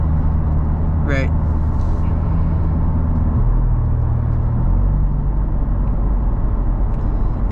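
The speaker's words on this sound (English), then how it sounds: "you can hear how quiet the cabin is. There's no droning in this Corvette" Cabin of a C8 Corvette Z51 with its V8 running on all eight cylinders while driving, giving a steady low road-and-engine rumble with no droning, continuous and fairly loud throughout, with a faint brief chirp near the start.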